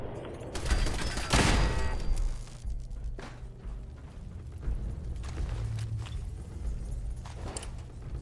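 Gunfire in the video game Fallout 4: a loud burst of shots near the start, then scattered sharper reports and mechanical clatter over a rumbling background, with no talk.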